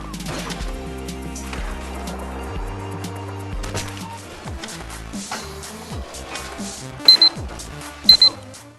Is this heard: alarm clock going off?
yes